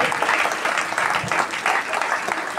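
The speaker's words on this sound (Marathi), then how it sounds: "सगळे मिळून आपण जोरदार टाळ्या वाजवून मुलांचं अभिवादन करूया" Steady, dense applause from an audience at a children's camp closing ceremony, many hands clapping continuously throughout.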